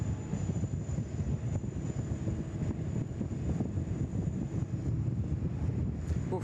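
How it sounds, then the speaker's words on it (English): Strong wind buffets the microphone at a Sydney Airport plane-spotting spot, a steady low rumbling roar with constant gusty turbulence and a faint high whine in the background. "Oof, that wind is really blowing out up here."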